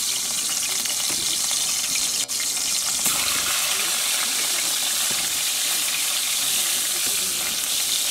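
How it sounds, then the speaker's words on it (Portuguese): Steady, loud sizzling and crackling of small regional fish frying in hot oil on a wood stove, a continuous hiss with a sharp click partway through. "Agora fritando um charutinho"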